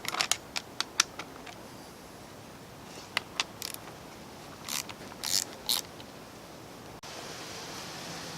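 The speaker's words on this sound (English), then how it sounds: "With the lower unit disconnected, we'll take the pump housing screws out. Use the same 10mm wrench." A 10mm wrench backing out water pump housing screws on a 2018 Tohatsu 20 hp outboard, giving sparse close metallic clicks and short ratcheting scrapes with quiet gaps between them and no talk.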